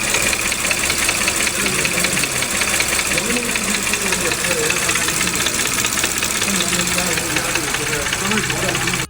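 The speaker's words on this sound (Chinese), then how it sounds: "今天报修一台 EA839发动机怠速当当响" A Volkswagen/Audi/Porsche EA839 engine with a balance-shaft fault idles with a steady, loud rhythmic clunking knock inside the block, heard up close with a constant mechanical whine and hum throughout.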